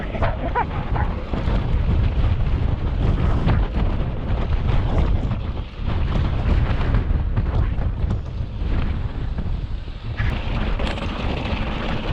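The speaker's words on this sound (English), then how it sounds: "Wind" Strong wind gusts roar through rocky canyons, a loud continuous buffeting rumble against the microphone with brief dips, no talking heard.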